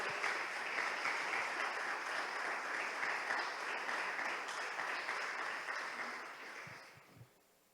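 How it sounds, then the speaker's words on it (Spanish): A Spanish-speaking church congregation applauds loudly during a sermon on miracles, dense sustained clapping from many people that fades out near the end. "Si va a aplaudir al Señor, hágalo fuerte, por favor"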